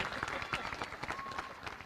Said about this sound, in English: Let's give a nice round of applause to Mr. Rhodes